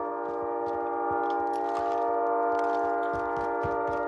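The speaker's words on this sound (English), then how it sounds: "That train is deafening, but that's pretty realistic because at night we can hear the train where we live." A train passes in the Call of Duty Warzone video game, a steady, dense rumble with sustained tonal hum and scattered clanks, continuous and fairly loud throughout without speech.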